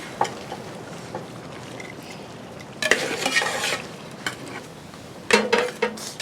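Duck biryani stirred in a large pot, with quiet scraping at first, then bursts of loud rattling and scraping from the spoon against the pot, close and irregular.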